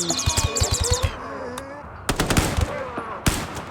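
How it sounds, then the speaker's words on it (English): Rapid bursts of automatic gunfire in the video game Rimworld, loud close shots in quick rhythmic volleys, a short lull, then more bursts and a final sharp shot. "Alright, shoot him. Take him out."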